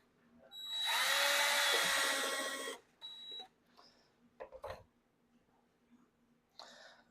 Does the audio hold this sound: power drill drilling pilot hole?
yes